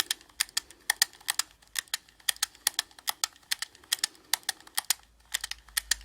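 A Prym hand-cranked knitting mill clicks steadily as it turns, with a run of sharp, close, evenly spaced clacks and a few short pauses between bursts.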